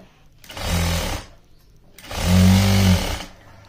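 Two bursts of a sewing machine stitching a lehenga, each running steadily for about a second with a brief pause between, the second louder and nearer, with no talk.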